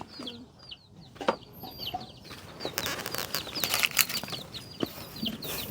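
A chicken being caught flaps its wings in bursts and clucks, with scuffling and frantic wingbeats close by; no talking.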